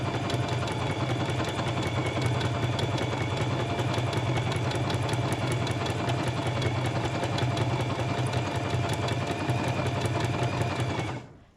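A sewing machine stitches steadily through paper, its needle hammering in a fast even rhythm with a constant motor hum, close and continuous until it stops at the end.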